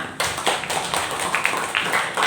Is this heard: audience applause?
yes